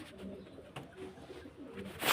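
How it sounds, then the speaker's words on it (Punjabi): Soft, low cooing of pigeons close by, repeated a few times against a quiet background, with a brief rustle at the end. "ਧੀਰੇ ਦੇ ਕਬੂਤਰ ਵੀ ਆ ਜਾਂਦੇ ਇਹ ਆ ਆਪਣੇ ਘਰ ਤੇ ਘੁੰਮ ਜਾਂਦੇ ਆ"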